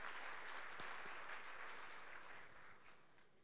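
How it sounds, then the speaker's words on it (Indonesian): Congregation applauding during a church sermon, a steady broad wash of clapping at moderate distance with one sharper clap standing out, gradually fading toward the end. "berikan tepuk tangan buat Tuhan Yesus"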